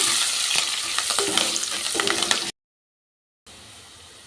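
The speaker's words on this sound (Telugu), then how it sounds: "ఈ కరివేపాకు కూడా ఇలా ఆయిల్లో చక్కగా ఇలా ఫ్రై చేసుకుందాం." Curry leaves and onions crackle and sizzle loudly in hot oil for a dense, steady hiss, then cut to silence before a quieter sizzle resumes, with no talking.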